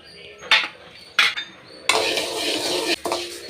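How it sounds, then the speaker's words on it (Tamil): Horse gram dry-roasts in a kadai with no oil, bright rattling bursts as the seeds get tossed and scraped against the metal, then a sustained dry clatter of stirring. "வெறுமனே இந்த கொள்ளு போட்டு நல்லா வறுத்துடுங்க"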